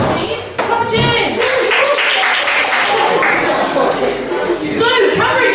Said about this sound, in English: please clap and cheer